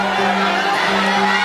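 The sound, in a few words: congregation shouting loudly together on a count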